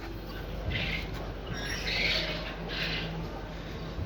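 Chickens in a poultry house give faint, scattered squawks and clucks over a low steady hum, quiet and somewhat distant throughout.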